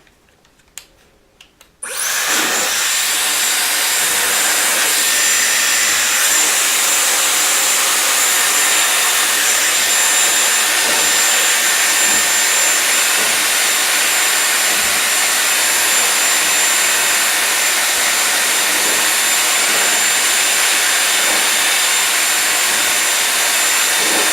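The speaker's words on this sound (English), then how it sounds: "So with the Dyson, we start with the hair dryer." A Dyson hair dryer switches on after a brief rustle and blows loudly and steadily, a constant close whooshing roar that continues without change.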